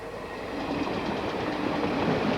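A train rumbles past close by, a steady roar of wheels and rail noise building slightly over a couple of seconds.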